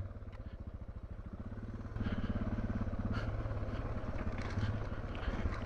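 A Suzuki DR650 motorcycle pulls up a loose sandy slope in second gear, its single-cylinder engine thumping steadily and growing louder partway through, with no talk over it.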